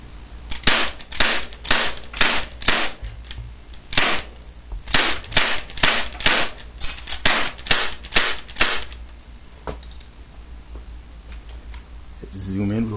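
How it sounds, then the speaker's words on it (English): TACZ11 Zombie Eliminator airsoft gun test-fired at a target about ten feet away, giving a rapid run of sharp, close snapping shots in irregular bursts that thin out to a few isolated pops. "I'm just going to be shooting about maybe 10 feet distance, just at the HP, just to see what happens"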